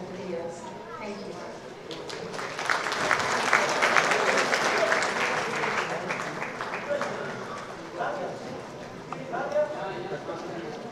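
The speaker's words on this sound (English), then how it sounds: "a warm round of applause for Deepika Padukone" Applause from an audience at a gala awards ceremony, swelling to a loud peak in the middle and then easing, with voices talking over the clapping.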